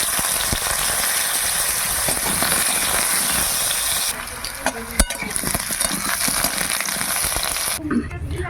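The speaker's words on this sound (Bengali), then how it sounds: "এবার আলুগুলো ভেজে নেব" Potatoes frying in oil over a wood fire for a rohu fish curry with cauliflower, a loud, continuous close-up sizzle and hiss that drops in level partway through, with a sharp knock near the middle.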